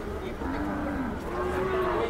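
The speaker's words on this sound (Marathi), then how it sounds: "बघू शकता बैल." A bull lows at a bustling bull market in Sangola, Maharashtra, a long drawn moo rising over the constant crowd murmur around it.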